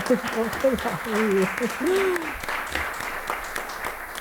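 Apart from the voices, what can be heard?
clapping for the writer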